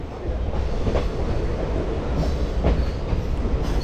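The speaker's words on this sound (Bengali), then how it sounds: "মানে এই হচ্ছে আমরা নিউ মাল জংশনের দিকে ঢুকছি, ট্রেনটা আবার বেঁকে যাবে, মানে আবার ব্যাক করবে।" A train on a hill route nears New Mal Junction, its steady loud rumble of wheels on rails heard from onboard with faint rhythmic clacks.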